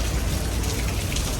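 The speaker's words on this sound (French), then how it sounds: "Mais il pleut vraiment de fou là." Heavy rain pours down steadily on a street in Mauritius, a dense, constant roar of drops drumming on surfaces close by.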